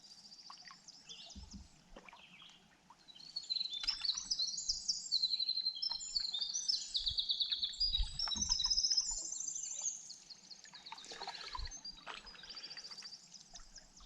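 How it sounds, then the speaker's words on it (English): Birds sing in the morning beside northern lakes on a solo canoe trip, a dense chorus of bright chirps and trills, moderately near, with faint low knocks beneath and no talk. "Bird song is awesome."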